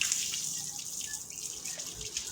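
Water pours and splashes steadily while a bullock is being soaked down for washing, a faint continuous outdoor running-water hiss with light spattering.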